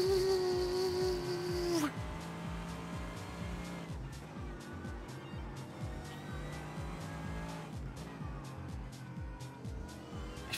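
A race car in the iRacing simulator roars steadily at high revs, its engine pitch dropping and climbing again as it shifts and brakes through corners, loud and continuous with a brief tire squeal.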